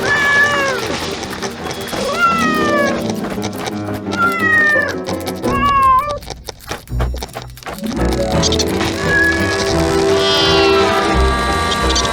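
A cat meows repeatedly in rising, drawn-out cries, with other voices and background noise mixed in.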